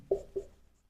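Chalk or marker strokes on a classroom board during a Hindi history lesson, two short scratchy strokes in quick succession followed by a pause and the start of a third, close and fairly quiet.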